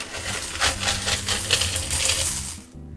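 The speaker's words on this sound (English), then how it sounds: "These are all the 5p and 2p coins from the year 2000 that I found whilst doing the Unhuntables with Grossi." A pile of British 5p and 2p coins being sifted and handled, giving a dense run of bright metallic clinks and jingles over about three seconds, close and alone, ending abruptly.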